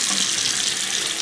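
Water gushes steadily from a newly installed bathroom tap under strong pressure. The hiss is continuous, bright and close, with no voices over it.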